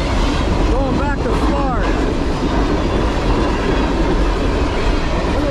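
A CSX westbound intermodal freight train rolls past close by, its wheels squealing and clattering in a dense, continuous loud roar.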